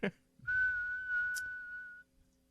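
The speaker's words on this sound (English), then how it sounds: "It's a weenie whistle." A single steady, high-pitched Wienermobile toy whistle blown for about a second and a half, fairly loud and close, with faint background rumble.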